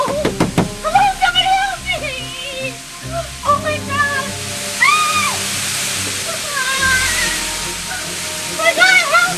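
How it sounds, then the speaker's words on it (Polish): A tanning booth spray switches on, a steady hissing wash of water-like spray that runs under a woman's distressed, overlapping voice and a few high tonal sounds. "Znów włączył się natrysk."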